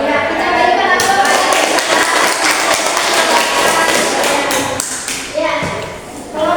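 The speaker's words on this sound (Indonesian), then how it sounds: "kita berikan aplaus" A classroom audience applauds a group presentation with a patter of claps and taps, loud and close, breaking off near the end.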